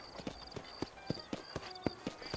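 Horse hooves trot in steady clip-clop beats in Red Dead Redemption, roughly four even strikes per second, crisp and close, with no voices over them.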